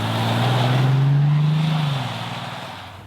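A Bentley Continental GT Speed with its 630 hp W12 engine revs up in one strong, rising swell that holds for about a second and then settles back to a lower steady drone, heard close and loud with nobody talking.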